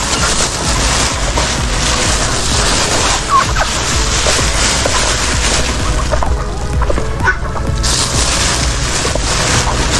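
Loud, dense gobbling from a flock of turkeys, continuous and close, over a constant rumbling background.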